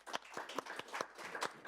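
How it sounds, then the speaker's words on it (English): A small audience clapping for a speaker at a panel discussion, about eight distinct, fairly quiet claps in an uneven rhythm, with no voices. "Let's give her a round of applause."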